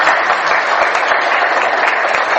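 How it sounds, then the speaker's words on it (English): Warm audience applause welcoming a speaker onto the stage at an evening talk, a dense, steady wash of many clapping hands held at full loudness throughout. "So please, all of you, welcome him with a warm applause."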